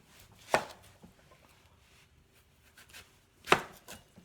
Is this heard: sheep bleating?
no